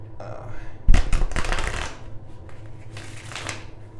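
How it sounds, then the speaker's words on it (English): Tarot cards riffle and shuffle in quick papery bursts, close and fairly loud, with a short pause before a second shuffle; faint talking underneath. "Let me shuffle these a bit so I can just make sure they're shuffled."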